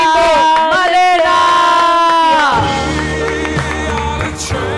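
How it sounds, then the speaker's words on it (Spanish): A crowd cheers loudly for the winner of a limbo game, sustained shouting voices near the microphone that swell and then give way to a rougher mix of cheers and clapping. "Un aplauso fuerte para la Malenita"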